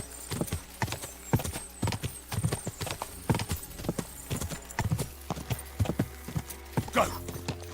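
Horse hooves pound in a steady galloping rhythm during a ride in the medieval game Kingdom Come: Deliverance II, close and clear, with a brief whinny near the end.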